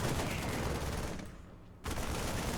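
Terran Marines in StarCraft firing on a command center, a dense continuous rattle of gunfire that thins briefly and then resumes at full strength, with no voices.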